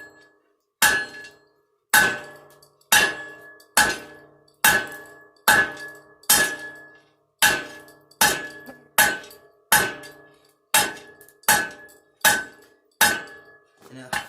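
Hot steel being hammered on an anvil to shape a forged knife tip: a steady series of about fourteen loud, ringing metallic strikes, roughly one per second, each with a bright clang and short decay, with no talking.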